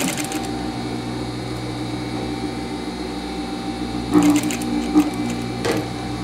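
Sewing machine stitching a mitred corner in fabric, a steady close motor whir with short pauses and a few louder bursts as the needle drives through the cloth.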